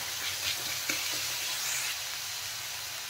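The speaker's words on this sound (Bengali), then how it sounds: "মশলা দেখেন হালকা ভাজা হয়ে গেছে" Spices fry in a pan for an egg and potato curry, giving a steady, close sizzle with a few faint stirring scrapes.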